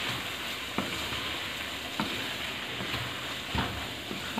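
Aloo keema with thick-cut green chillies and fresh coriander is stirred and fried in a pan. A soft, even sizzle runs throughout, broken by a few sharp spoon knocks against the pan, with no talking.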